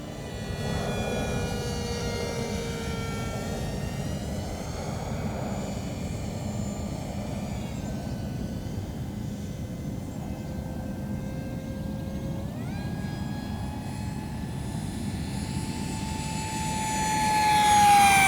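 An H-King F-18 Super Hornet foam model jet with a 50mm 12-blade electric ducted fan on a 4S battery streaks overhead, its steady high-pitched fan whine shifting in pitch and swelling louder as it climbs, with breezy wind rumble underneath.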